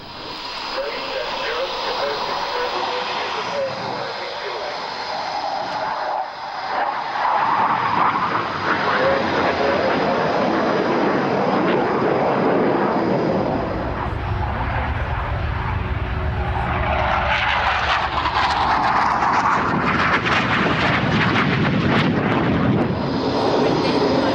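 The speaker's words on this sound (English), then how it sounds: "The Hawk is the RAF's primary jet trainer, as well as being the mount of the Red Arrows." Hawk jet trainer, the type flown by the Red Arrows, passing at the Farnborough 2002 airshow: a loud, sustained jet roar that holds steadily, swelling and shifting in pitch as the aircraft goes by, with faint voices underneath.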